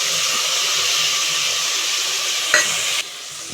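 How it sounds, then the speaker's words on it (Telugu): Tomato, mint and peas sizzle steadily in hot oil in a pan for a vegetable biryani while being stirred, a loud continuous frying hiss with a brief scrape of the spoon near the end. "టమాటా పుదీనా వేసేసాను ఇప్పుడు కలిపేస్తున్నా"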